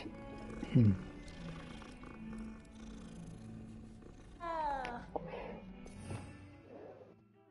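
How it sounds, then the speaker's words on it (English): A cat in the video game Hogwarts Legacy gives a brief, loud purring growl near the start, standing out against steady game ambience, followed later by softer animal-like calls and brief spoken talk. "It's a cat."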